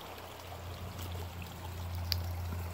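Water gurgles and trickles over the upper falls of a woodland stream in late winter, a steady soft rushing flow with an occasional brighter splash.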